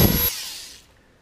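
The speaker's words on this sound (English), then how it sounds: "I'm gonna go ahead with the Dremel right now and remove some material from both carb boots" Dremel rotary tool grinding out a mounting hole in a rubber carb boot on a Honda CB350 motorcycle, a short loud high whine that cuts off and spins down to quiet.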